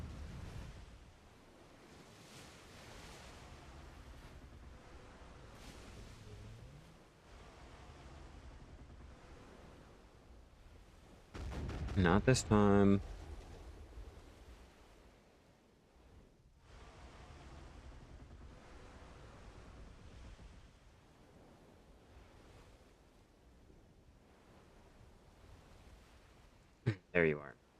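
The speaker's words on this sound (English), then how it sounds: "The waves are really, really making it hard for me to tell where the fuck this guy is." Ocean waves in the video game Black Desert wash in a steady broadband surf under a voice, with one louder crash in the middle and brief bursts near the end.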